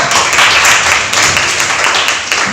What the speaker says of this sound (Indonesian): Oke, berikan tepuk tangan yang sah.